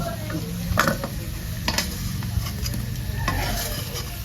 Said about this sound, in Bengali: আলু ভাজা হয়ে গেছে, আমার ভাতও বসানো হয়ে গেছে, এখন আলুটারে উঠবো।